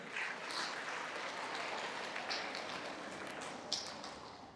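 Broad wash of audience clapping at a Tamil devotional lecture on Murugan, steady and even, with a few louder individual claps standing out as it slowly thins toward the end.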